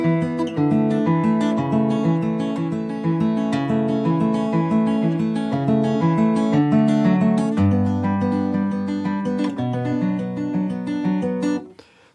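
Steady acoustic guitar strumming and picking through the chorus of a song, a continuous chord pattern played close and full, ending abruptly in a brief thump.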